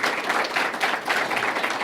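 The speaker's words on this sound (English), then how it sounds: "let's give them a round of applause also" Steady applause from an audience at a Memorial Day essay awards ceremony, honoring the essay contest organizers; dense, continuous clapping fills the short moment at a fairly close, even level with no talking.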